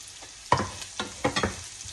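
Onions, green chilies and curry leaves sizzle in a pan as a utensil stirs them, giving several sharp scraping strokes over a quiet frying hiss, close by.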